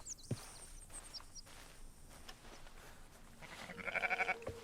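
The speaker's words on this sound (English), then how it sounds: "I want to study this sheep" A sheep in the Red Dead Redemption 2 countryside bleats in short wavering calls near the end, following soft footsteps and faint ambient game sounds at low volume.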